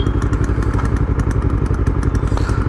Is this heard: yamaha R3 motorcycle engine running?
yes